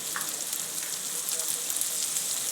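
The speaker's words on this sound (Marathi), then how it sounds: "कांदा टॅमॅटो आपला भाजलेला आहे चमचा गरम मसाला हळद" Onion and tomato frying with garam masala and turmeric in a pan, a soft continuous sizzle heard close and alone, with a few faint clinks.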